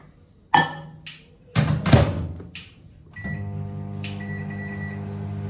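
A few thuds of a door closing and buttons pressed, then a microwave oven starts running with a steady low hum, close by.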